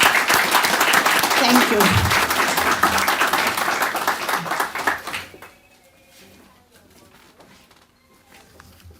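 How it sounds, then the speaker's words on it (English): Audience applause at a scholarship award ceremony of a Kastorian community society, loud dense clapping for about five seconds with a voice speaking over it, then fading to a quiet room with brief speech. "Bravo, we applaud you."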